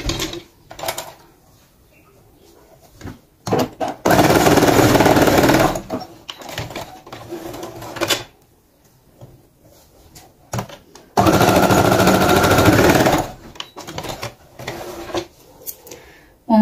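A sewing machine stitches the side seam of a garment in two loud, steady bursts a few seconds apart, with quieter handling clatter and pauses between them.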